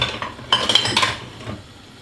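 A metal spoon clinks and scrapes against a bowl in a few quick bright knocks as cooked potatoes are moved into a clean bowl, the sounds close and alone before fading to quiet.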